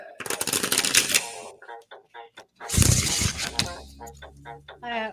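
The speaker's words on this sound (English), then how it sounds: "Can you hear the shuffling?" Tarot cards riffled and shuffled in two loud bursts near the microphone, with crisp papery rattling, brief taps between, and soft speech-like sounds in the pauses.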